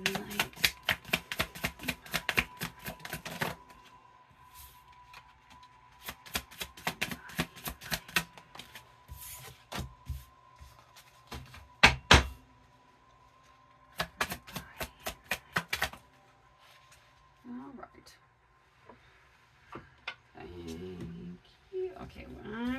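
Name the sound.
shuffling cards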